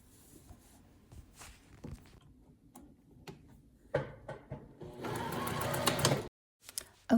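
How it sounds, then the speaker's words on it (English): A sewing machine runs a straight stitch along a hoodie's facing, following the original stitching: scattered light clicks and handling taps first, then one steady, dense mechanical run of about a second before it stops abruptly. "I will run a straight running stitch"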